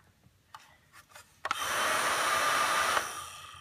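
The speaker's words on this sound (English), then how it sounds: "that's where I love a nail dryer" A nail dryer for drying layers of nail polish switches on after a few soft taps and handling noises, giving a steady, fairly loud airy whir that runs evenly for about a second and a half before cutting off.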